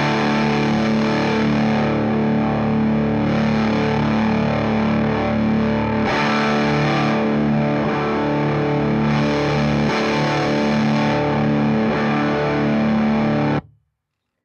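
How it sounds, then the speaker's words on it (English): Heavily distorted electric guitar runs through a Pro Co Lil Rat distortion pedal, playing steady loud chords for about fourteen seconds while the filter is gradually turned up, then stopping abruptly. "Now we're gonna slowly turn up the filter, and you can hear it, you know, rolling back the high."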